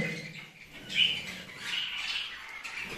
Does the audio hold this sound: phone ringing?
no